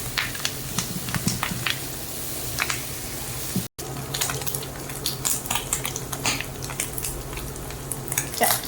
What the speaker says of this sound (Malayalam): വെന്ത ചെമ്മീനാണ് ഞാൻ വീണ്ടും പൊരിക്കുന്നത്